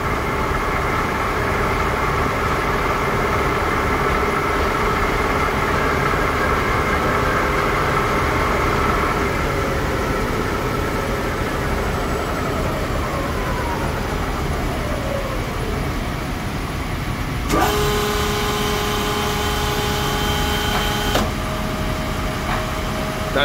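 A Kearns & Richards CNC table-type horizontal boring mill runs with a steady heavy hum and whine, a falling tone as it shifts gears into the facing head, then a sharper high mechanical whine starts partway through.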